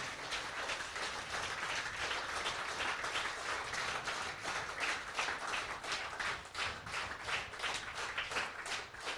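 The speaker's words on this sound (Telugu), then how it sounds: "మళ్ళీ ఒకసారి కొట్టండి చప్పట్లు కట్టి" A small group claps together during a yoga class in a steady, fast, continuous patter of hand claps that is faint and somewhat distant.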